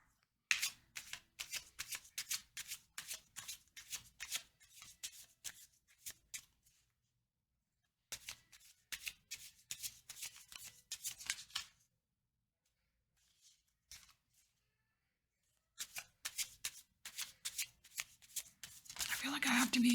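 Playing cards riffle and shuffle in repeated bursts of rapid crisp flicking, close up, separated by brief quiet pauses.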